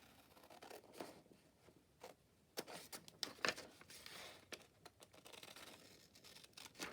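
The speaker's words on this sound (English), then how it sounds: "Okay, so we'll cut some of this. Maybe I'll try my fabric scissors." Fabric scissors cut through paper in a quiet room for a collage page, giving a few scattered crisp snips and crunching rustles, with soft handling noise between the cuts.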